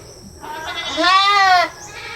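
A goat, injured and exhausted after being attacked by dogs, bleats once, a long wavering cry with a rising then falling pitch, fairly close and loud over faint background noise.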